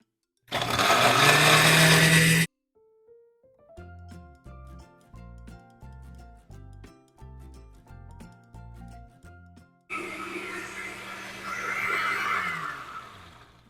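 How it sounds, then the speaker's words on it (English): A blender motor roars loudly for two seconds and cuts out while blending chili oil, a short melodic tune plays, then the blender whirs again steadily. "And I am going to blend for about 2 to 3 minutes."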